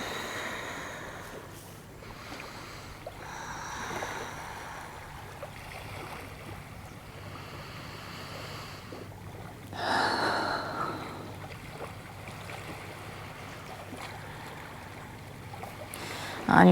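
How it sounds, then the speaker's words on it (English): Slow, deep breaths during a vinyasa yoga flow, soft airy inhales and exhales spread over a long quiet stretch, with one louder, fuller breath partway through and no talk. "Take 3 deep breaths here."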